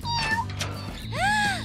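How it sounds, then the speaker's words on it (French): A cat meows loudly and nearby, giving a couple of drawn-out, wavering cries over a low background hum. "Le chat veut entrer."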